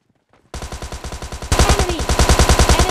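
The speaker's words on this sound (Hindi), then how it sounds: "अब देखो भाई बाहर से बहुत तगड़े वाले भाई फायर साउंड आ रहे" Rapid automatic gunfire in PUBG Mobile Lite, a steady rhythmic burst of shots that grows louder and nearer halfway through, with no talking.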